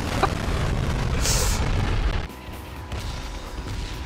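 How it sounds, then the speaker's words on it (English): Explosion in a PUBG match: a loud, dense rumbling blast with a crackling burst, sustained for about two seconds before dropping to a lower roar of game noise and distant rumble. "We have an incomplete explosion!"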